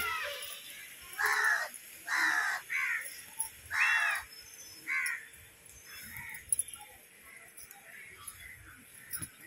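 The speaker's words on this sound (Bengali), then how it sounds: "এই কাকগুলো যে এত উৎপাত করে না, কি বলবো।" Crows give a series of loud, harsh caws close by, about half a dozen spaced calls in quick succession, then fainter calls and light clicks trail off in the background.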